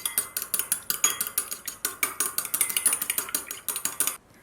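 A whisk or fork rapidly beating a single egg in a large bowl, the quick rhythmic metallic clicks and taps steady and close for about four seconds before stopping abruptly.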